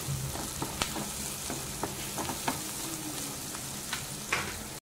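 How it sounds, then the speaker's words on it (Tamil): Onions sizzle in a pan with salt, a steady soft frying hiss broken by faint clicks and stirring scrapes, fairly quiet and without talk. "ஆனியன் ஓரளவுக்கு வதங்க ஆரம்பிச்சிச்சு"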